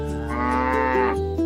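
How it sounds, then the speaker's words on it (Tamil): A cow gives one long, loud, close moo that holds steady and then drops in pitch near the end, with no other sound around it. "பசுவின் ஒலி எப்படி இருக்கும்?"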